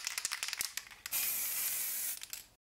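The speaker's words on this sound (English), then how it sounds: "we're ready to spray the miniature with the black primer" Aerosol can of black primer sprayed onto a Darth Vader miniature in a steady hissing burst of about a second, preceded and followed by short rattling and handling clicks.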